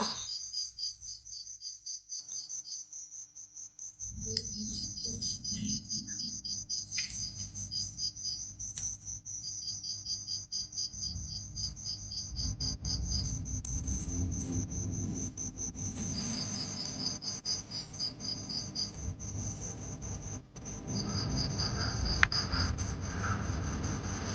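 Crickets chirp in a steady, continuous high-pitched trill, joined after a few seconds by a low background rumble, with no voices.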